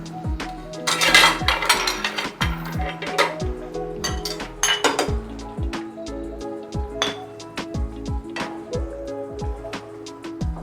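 Serving spoons clinking and scraping against dishes and a pot while beef kofta curry is dished out, a busy run of bright metallic clinks and knocks, close and continuous.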